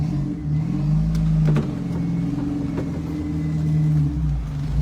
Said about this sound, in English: Now I'm driving on slicks, going up a hill sideways.